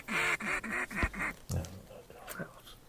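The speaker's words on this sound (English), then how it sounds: "it's a duck call" A series of nasal quacking duck calls in a video game, several quick bursts in a row followed by softer scattered quacks, close and clear.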